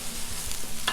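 Onions hit a hot Blackstone griddle for a steak sandwich, giving a close, bright, continuous sizzle with a faint scrape near the end.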